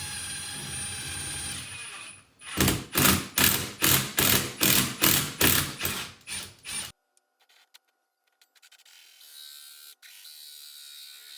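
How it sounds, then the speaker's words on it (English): A drill fitted with a long extension bores through a garage wall in a run of about nine loud, rhythmic pulses of motor whine, then stops abruptly into near silence. "I'm going to use the really long extension to drill it through the wall outside"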